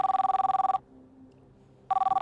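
A telephone rings on a quiz show, loud rapid trilling in two bursts separated by a second of near silence, with no talk over it.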